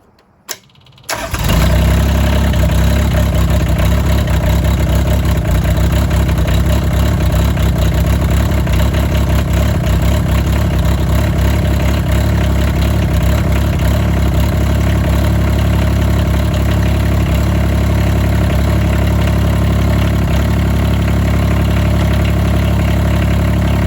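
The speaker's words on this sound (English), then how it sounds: "I currently have a rattle or tapping noise to track down" SDLE20 mini excavator engine cranks and starts, then idles steadily and loudly for over twenty seconds with a constant low diesel rumble and a faint rattling, tapping undertone.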